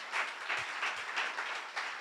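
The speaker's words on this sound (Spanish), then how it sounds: "Dale un aplauso fuerte al Señor" A church congregation claps together in rhythmic, pulsing bursts during a sermon, heard at a distance and fairly faint, with no voices over it.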